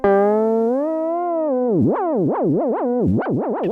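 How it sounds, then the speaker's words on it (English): A sustained synth tone through a lofi synth pedal that starts steady, then wobbles up and down in pitch with a warbling, wavering chorus and vibrato effect driven by a random LFO, played alone. "having a random LFO be the chorus and the vibrato shape that we use just sounds beautiful"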